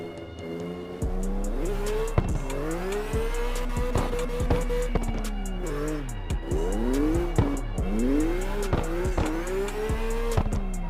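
A car races and drifts over a jump in CarX Drift Racing, with a loud, steady engine whine rising and falling as the revs change and tires squealing throughout.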